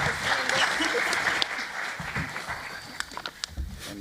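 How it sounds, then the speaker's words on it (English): Audience applause at an economic forecast panel as participants reach the stage, a steady wash of clapping throughout with a few sharper individual claps standing out near the end. "let's give a quick round of applause for all of these folks"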